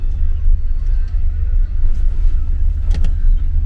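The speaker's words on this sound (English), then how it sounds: "We are in our car making our escape" A car pulls away through a city, with a steady, close engine rumble and road noise throughout and a short rattle near the end.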